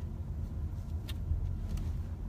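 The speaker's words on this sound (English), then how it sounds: "just driving around, looking at some nice places around here" A car drives through residential neighborhoods near Columbus, Ohio, giving a steady low engine and road rumble heard from inside the cabin, with no talk.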